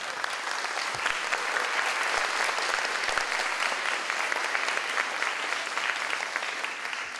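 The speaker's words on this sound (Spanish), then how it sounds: "El aplauso para él." Sustained applause from an audience at a cultural ceremony for the Sinfonía por el Perú Miraflores núcleo, a dense, steady wash of many hands clapping without pause, fairly loud and even throughout.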